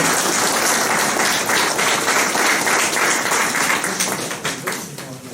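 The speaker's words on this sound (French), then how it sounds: "Vous pouvez l'applaudir déjà, avant même qu'elle ait parlé." An audience at a November 11 commemoration gathering breaks into sustained applause for a woman called up front, dense clapping that holds steady then thins and fades in the final second.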